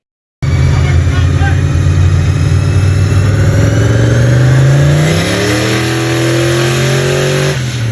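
Turbocharged stock Ford 302 V8 on a hard pull, loud and close throughout: a dense, steady engine roar climbing in pitch, coming on boost, then easing slightly near the end with an uneven rumble.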